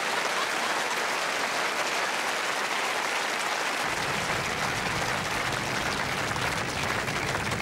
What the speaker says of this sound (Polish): Tłumy wiwatują, niezrażone lekką listopadową mrzawką.